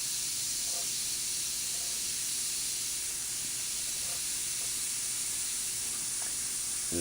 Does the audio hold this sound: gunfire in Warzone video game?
no